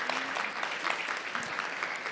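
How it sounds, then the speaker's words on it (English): An audience at an RGV Startup Week panel on fueling body, mind and mission breaks into steady applause, a dense patter of many hands clapping continuously at moderate loudness, heard alone. "Let's give them a round of applause."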